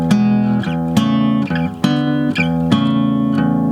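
Blues guitar plays a traveling shuffle over E, bright plucked notes and chord stabs in a loping swung rhythm, loud and close with no talking.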